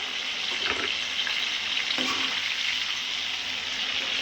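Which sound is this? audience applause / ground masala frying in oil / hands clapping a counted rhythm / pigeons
ground masala frying in oil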